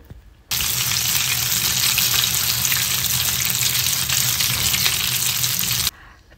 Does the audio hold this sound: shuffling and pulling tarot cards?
no